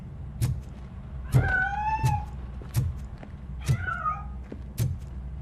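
A cat meows several times inside a building with a piano, in the RoboCop: Rogue City video game, drawn-out wavering calls between soft regular thumps, fairly quiet and a little distant.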